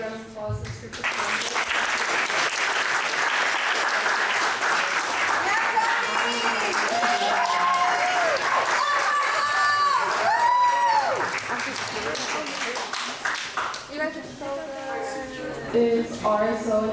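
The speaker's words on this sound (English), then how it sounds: "A big round of applause for this group of" Sustained applause and cheering from a crowd at a student senate candidate debate night, loud and continuous throughout, with whoops and shouting voices rising above the clapping.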